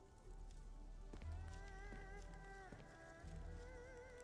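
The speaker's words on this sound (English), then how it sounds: "Splattering rain." Rain splatters steadily on surfaces in the video game Arknights: Endfield. A soft, continuous patter plays at low volume, with faint tonal game music drifting over it.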